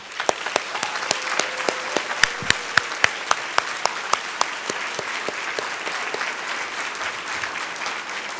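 Dinner guests at an awards presentation applaud the food service staff, a broad patter of clapping punctuated by a few sharp, close individual claps that stand out early on, continuing steadily to the end.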